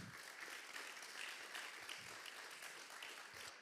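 Audience applause in a conference auditorium at PyCon Greece 2025 after a talk, a steady patter of many hands clapping, fairly quiet and even throughout.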